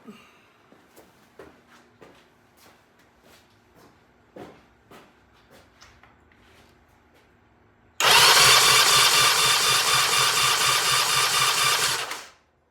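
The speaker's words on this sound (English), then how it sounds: "So I'm going to do a throttle open compression test here and see how it goes." A Norton motorcycle engine in a throttle-open compression test: first a series of slow, evenly spaced mechanical clicks and thumps, then a loud, steady whirring crank for about four seconds that abruptly stops.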